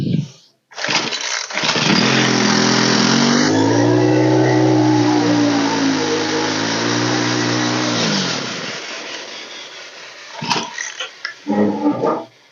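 Craftsman string trimmer small engine starting on full choke, sputtering to life and revving loudly with a wavering pitch for several seconds before dying, followed by a few brief sputters of restart attempts close by.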